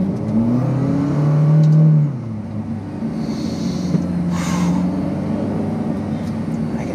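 A McLaren Speedtail engine revs briefly while driving, a rising whine for about two seconds that drops back to a steady cruising drone with faint interior noise.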